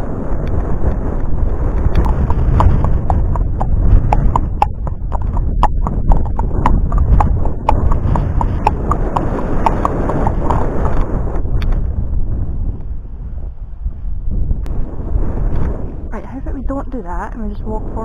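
A pony's hooves clip-clop steadily at a walk during an outdoor hack, recorded close from a rider's headcam, with wind buffeting and a rider talking over the rhythm.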